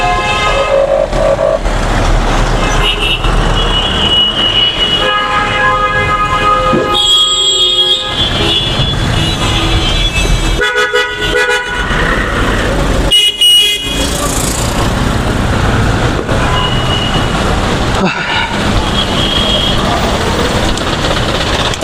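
Heavy traffic jam on the Dhaka-Sylhet highway where a roadside market chokes the road, with a loud, constant roar of engines and horn blasts close by and some voices mixed in throughout.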